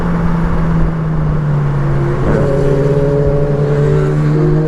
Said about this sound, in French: La moto réaccélère toute seule